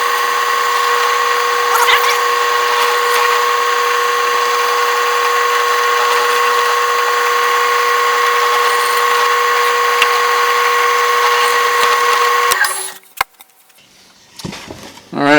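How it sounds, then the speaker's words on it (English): A power drill bores steadily through wood into a backer board, a loud, even whine for about twelve seconds, then it cuts out and leaves a few quiet clatters. "I'll just drill this all the way through"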